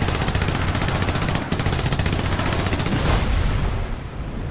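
Sustained rapid autocannon fire from 20mm and 15mm guns aimed at a BTR in the War Thunder video game, a dense, loud, unbroken stream of shots that briefly pauses and then resumes before cutting off.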